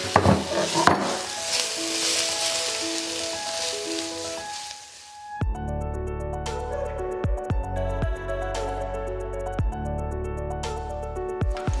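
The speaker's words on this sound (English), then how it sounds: "So we're going to add the bacon into here." Bacon and onions fry in oil in a pan with a steady, bright sizzle for about five seconds, then the sizzle gives way to music.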